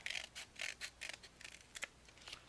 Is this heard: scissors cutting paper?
yes